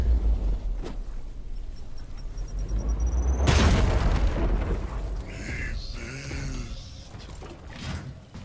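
A grenade detonates in Warhammer 40k: Chaos Gate - Daemonhunters as a single loud, sudden boom a few seconds in, followed by a lingering rumble and crackling debris amid game sounds.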